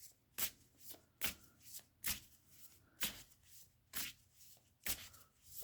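Tarot cards are shuffled and drawn in a steady run of about seven soft riffling swishes, close-up and quiet, evenly spaced with no talking.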